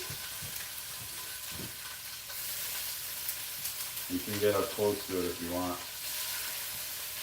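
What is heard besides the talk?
fish frying and sizzling in pan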